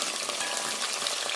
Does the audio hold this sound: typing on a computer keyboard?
no